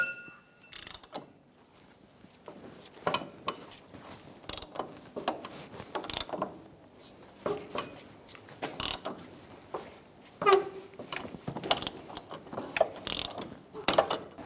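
Ratchet wrench loosening an inner tie rod on a 2014-2018 Subaru Forester: repeated clicking pawl bursts and short mechanical clacks, close up and fairly quiet, spread unevenly across the stretch.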